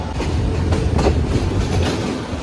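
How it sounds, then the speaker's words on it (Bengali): Crowded commuter train leaving a station in Gazipur district, Bangladesh, a dense continuous rumble of wheels on rails with faint clickety-clack, close and loud. "তো আমাদের ট্রেন ছেড়ে দিল কাউরাইত স্টেশন থেকে"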